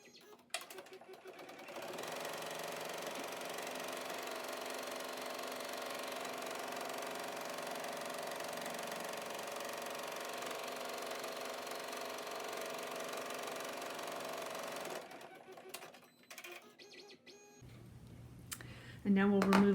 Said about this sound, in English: And now we'll take it back to the machine and stitch the pocket down.